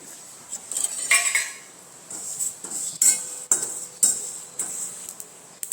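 Spice masala roasts in a bowl over a gas flame, with a metal spoon scraping and clinking against the bowl in irregular, fairly close knocks and taps.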